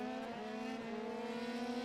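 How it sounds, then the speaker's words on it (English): A Dallara Formula 3 race car engine drones at a steady high pitch at Laguna Seca, a sustained close whine with strong harmonics, holding constant for the whole moment. "all these competitors driving Dallara Formula 3 machines"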